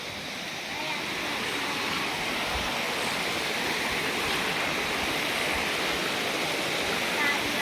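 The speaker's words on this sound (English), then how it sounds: "this is the big waterfall" A steady, broadband roar of falling water fills the whole stretch, constant and fairly loud, with faint voices now and then beneath it.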